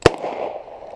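A single sharp blast from a Mossberg 500 Compact Cruiser pump shotgun firing 15-pellet double-aught buckshot, loud and close, followed by a short rolling echo that fades over the next second.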